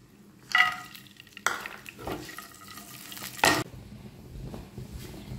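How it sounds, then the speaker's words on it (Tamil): Cashew nuts frying in ghee in a pan, a faint sizzle broken by a few louder scraping and clattering spatula strokes, spaced irregularly, with no voices. "நம்ம இந்த பேனில் வந்து நெய் விட்டு கேஷ்யூ நட் முந்திரி வந்து வறுத்து எடுத்துக்கலாம்."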